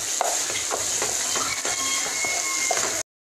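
Boiled carrots stirred in ghee in a pan for carrot halwa, a soft continuous sizzle with repeated scraping strokes of a spoon at an uneven rhythm, close and quiet, no talking.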